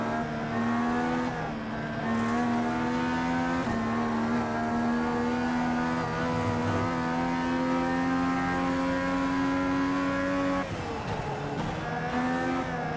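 An FIA Cross Car is driven hard off-road, its engine holding a steady, buzzing high-revving drone throughout, with brief dips at gear changes or lifts before pulling again, heard close and continuous.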